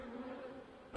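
Faint, steady buzzing of somewhat agitated honey bees humming close by at a hive, a continuous drone with no voices.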